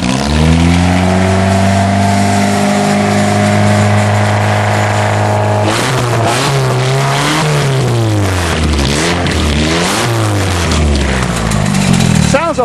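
The modified exhaust on a 1997 Mazda roars as the engine is revved repeatedly. A steady loud drone gives way to rising and falling blips, close and loud, with voices talking over it.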